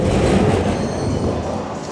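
A train rumbling through Shinjuku Station in Tokyo, a loud, steady, close roar of rolling wheels and carriage noise throughout, with no talking.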